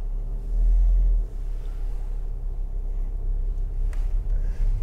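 A 2019 Fiat 500 convertible driving on a highway with the top closed, giving a steady low engine and road rumble with a brief swell as it shifts gear. No one speaks.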